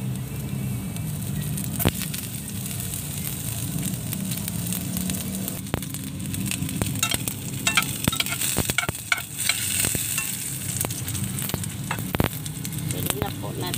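Garlic, onion and chili dropped into a hot wok, a loud sustained sizzle with scattered pops and clatter as it is stirred, fairly close.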